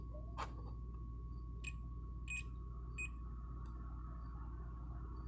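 A faint steady electronic tone hums quietly from a multimeter continuity test on a Victrola VSC-550BT record player, with a few brief clicks and short high blips, indoors and close.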